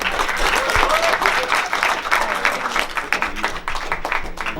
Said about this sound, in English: one last applause for Noel.